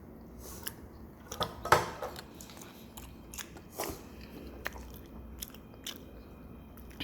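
Crunchy chocolate cereal being chewed up close, with a string of crisp, irregular bites and crackles over a few seconds, quiet and with no talking.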